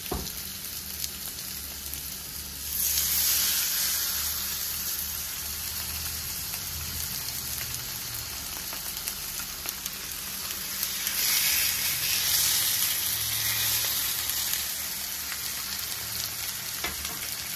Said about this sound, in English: I am going to sear these pieces of fish first before I put it into the oven